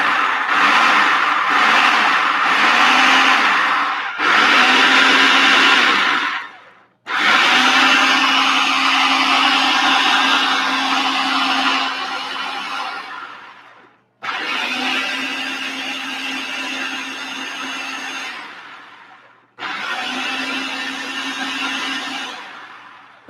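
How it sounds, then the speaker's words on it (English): Food processor pulsing nuts and seeds down into a flour, loud whirring bursts of several seconds each separated by short pauses, with no talking. "we're going to get this going on the food processor, so part of the noise"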